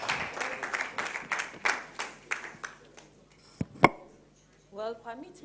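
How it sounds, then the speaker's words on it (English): Brief burst of audience clapping at a young filmmakers' training event, a handful of hand claps over the first couple of seconds, then fading into room noise and a few spoken words. "So please a round of applause for her."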